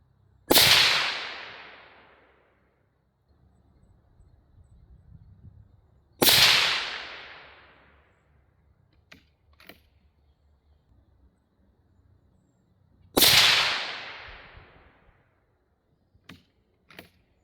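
A SIG Cross Sawtooth 6.5 Creedmoor rifle with an 18-inch Proof carbon barrel fires SIG 140 OTM ammunition. Three loud, sharp shots come roughly six seconds apart, each with a ringing decay, and quiet clicks and handling noises fall between them.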